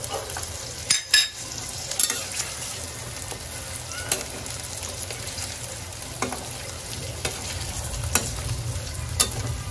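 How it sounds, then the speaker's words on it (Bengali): Dried chillies and onion fry in hot oil, a close crackling sizzle with repeated stirring scrapes and a few sharper clatters early on, steady throughout with no talk. "এখন তিল্লিতে দিব শুকনো মরিচ, পেঁয়াজ।"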